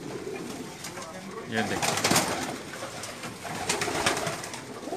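Pakistani pigeons coo and rustle close by in a loft, soft repeated throaty calls mixed with fluttering and background noise, while someone briefly speaks.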